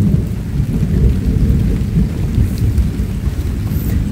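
Thunder rolls through a storm with rain, a loud, continuous low rumble that carries on without pause.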